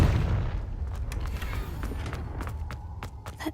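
Confringo spell explosion in the video game Hogwarts Legacy, a heavy boom at the start that fades into rumbling debris, followed by scattered light footsteps and small impacts.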